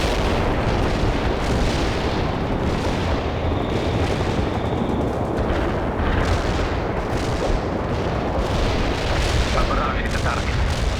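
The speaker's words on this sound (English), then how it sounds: "Barrage hit the target. Artillery strike on the way." An artillery barrage in the World in Conflict Soviet campaign, a loud continuous roar of booms and blasts layered over one another for the whole stretch, with no pauses.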